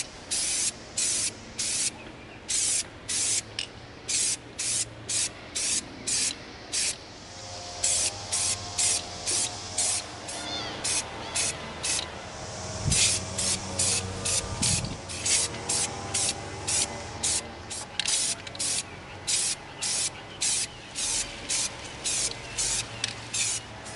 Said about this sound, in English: We're going to spray our binoculars with our matte finish white.